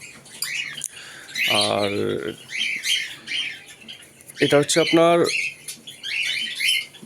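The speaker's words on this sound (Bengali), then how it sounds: "যে এখানে যে কটা পায়রা আছে আর ওইখানে 4টে পায়রা আছে" Fancy pigeons in a pigeon house, soft squawks, chirps and fluttering bursts heard close by in short intermittent clusters, while someone talks over them.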